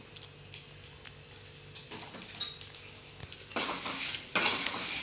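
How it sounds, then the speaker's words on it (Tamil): Dried chillies roast in a pan for fish curry, with scattered metallic clinks and stirring scrapes, then a louder burst of sizzling toward the end, close and without talk. "அதுக்கு மிளகாத்தை வறுத்துக்கிடுவேன்"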